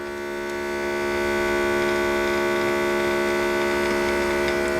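An Advrepair automotive smoke leak detector runs steadily with its pump, giving a continuous mechanical hum with tonal whine that swells over the first second and then holds constant, close and alone.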